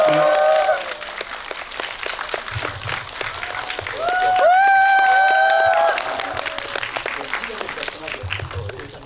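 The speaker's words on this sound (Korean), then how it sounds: "큰 박수로 환영해 주십시오." An audience claps in welcome for a guest at a Busan children's film festival talk event, steady applause running throughout with bright tonal music or chimes over it and voices mixed in.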